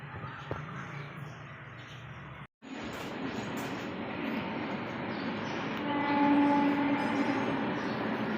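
A train runs along a nearby railway line with a steady, continuous rumble that swells toward the end, heard alone with no talk.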